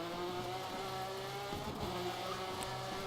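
Rally car in DIRT 3 with a steady engine drone and tyre noise running throughout, moderately loud and continuous, with small shifts in pitch as it speeds along; no voices.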